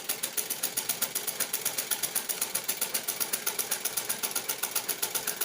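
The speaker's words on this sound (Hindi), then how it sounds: "इस तरह से मैंने 2-2 पीस को आपस में मिला करके सिल लिया।" Domestic sewing machine stitching two cloth pieces together for a homemade face mask, a fast, even mechanical rattle repeating throughout at close range, with no speech.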